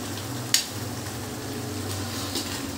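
Chicken with pepper fries on a high flame, a steady close sizzle with one sharp clink of a utensil against the pan partway through and a softer knock near the end.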